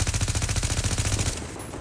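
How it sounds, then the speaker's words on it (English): A rapid automatic burst of gunfire in The Division, loud and close with evenly spaced shots about a dozen per second, stopping abruptly and leaving a brief ringing tail. "Open fire."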